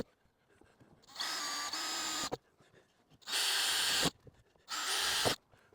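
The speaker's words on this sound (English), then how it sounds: "now I'm going to drill 4 holes in my perfectly good roof" A power drill whines in three separate bursts, each lasting about a second, drilling holes in a van roof, with quiet pauses and faint handling noise between them.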